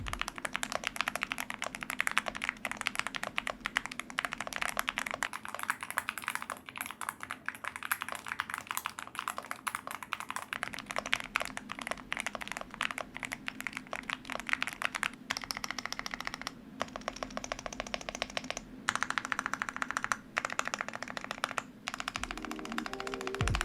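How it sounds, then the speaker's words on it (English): Steady, fast typing on a budget mechanical keyboard with pre-installed coconut milk 3-pin linear switches: dense, even clacking that continues for a long stretch without any voices. "the switches pre-installed, coconut milk switches, 3-pin linear switch with a box stamp, and here's how it sounds"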